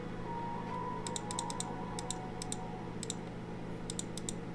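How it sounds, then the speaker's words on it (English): Keyboard shortcut presses on a computer keyboard during 3D sculpting work in Blender, heard as several short, sharp key clicks in small clusters over a steady low hum of room or computer noise. "I'm gonna push shortcut I on my keyboard"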